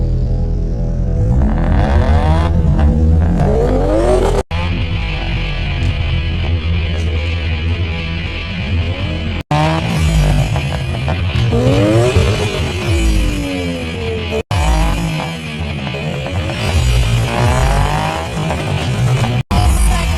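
Cars racing in The Fast and the Furious, with loud, continuous engine roar and repeated revving sweeps rising and falling, broken by abrupt cuts between shots.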